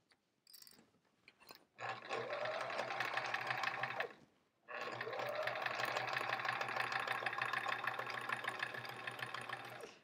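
Close, loud sewing machine runs in two steady bursts, stitching a quilt block strip onto plain sashing, with a brief stop between the runs.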